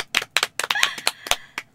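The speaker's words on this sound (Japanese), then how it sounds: "拍手。" A small group of women at an informal girls' get-together clap in short, uneven bursts of scattered applause, close by and fairly light, with no talk over it.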